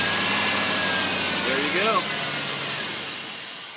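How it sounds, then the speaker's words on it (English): A V8 engine with a completely dead battery, just jump-started from a small EarthX jump pack, runs with a loud, steady, broadband rumble that slowly eases. Someone speaks briefly over it. "This just started a V8 engine with a battery that was completely dead with our little EarthX Jump Pack"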